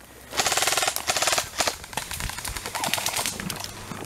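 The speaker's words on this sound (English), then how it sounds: "Nick is theirs. Shoot him" Rapid bursts of gunfire ring out during a Juggernaut match at The Yard, loud sustained volleys that thin into more scattered shots toward the end.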